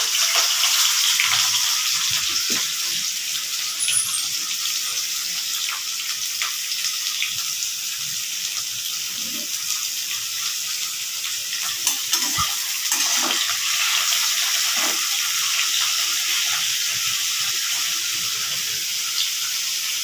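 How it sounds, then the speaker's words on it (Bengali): Potato and pointed gourd frying in oil in a kadai, a loud steady close sizzle and hiss sustained throughout with faint scrapes of stirring, no speech. "এখন আমি আলু পটলটা ভেজে নেব কড়াইতে তেল দিয়ে দিয়েছি"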